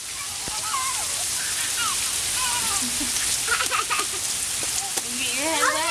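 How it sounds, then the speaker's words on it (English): Steady broadband rain pours down outdoors in hot weather in Memphis, a continuous hiss throughout, with children's and adults' voices talking and calling over it. "This is the perfect kind of rain because it's like 100 degrees still"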